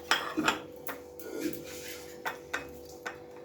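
Prawns being mixed into a marinade in a bowl, with soft clinks and scrapes of a spoon against the bowl coming in several light, irregular taps, close and quiet, without any talking.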